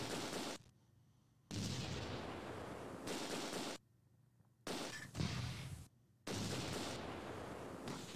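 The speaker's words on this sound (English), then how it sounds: "That 88, that 60 millimeter landed pretty close." Artillery shells burst in Close Combat 2 in long, loud stretches of harsh rumbling noise that cut off into near silence, with a sharper close impact partway through.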